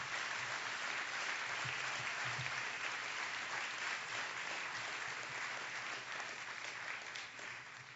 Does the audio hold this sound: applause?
yes